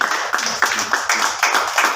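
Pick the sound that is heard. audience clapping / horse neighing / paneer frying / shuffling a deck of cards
audience clapping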